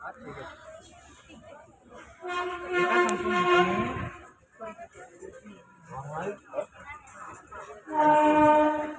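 A train rolls past with a rumbling, clattering body of sound and two loud sustained horn-like blasts, one early and one at the end, while people talk throughout.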